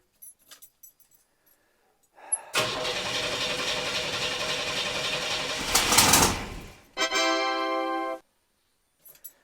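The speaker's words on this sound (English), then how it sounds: "We did have a backfire, which means our timing is off." A 3.4L engine in an 1982 S-10 pickup cranking for several seconds, then a sharp loud pop as it backfires, followed by a short burst of rough running before it stops, all close up with faint clicks around it.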